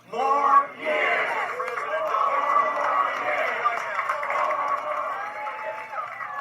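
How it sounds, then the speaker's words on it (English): An enthusiastic crowd greets the Vice President on his way to the Secretary of State's office in New Hampshire, a steady mid-distance mix of cheering, shouting and chatter that swells briefly at the start and carries on. "An enthusiastic crowd greeting the Vice President as he made his way to the Secretary of State's office"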